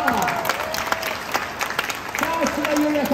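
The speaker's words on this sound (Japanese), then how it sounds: "皆さんよろしければ一番拍手を上げてください" Audience applause at the BMX All-Japan Championship, Mynavi Japan Cup 2022 in Chiba, with steady clapping from a crowd under an announcer's voice over the PA.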